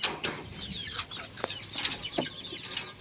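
A rooster lets out a few short, scattered clucks at close range, mixed with brief chirps and rustling in a quiet farmyard.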